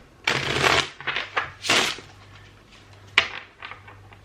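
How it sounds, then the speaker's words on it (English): A new tarot card deck being shuffled up close: several crisp riffling bursts of stiff cards, with short pauses and a few lighter taps between them. "I wonder if I can do the proper shuffle with this deck."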